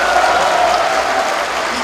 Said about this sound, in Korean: 여러분 다시 한번 박근혜 후보님께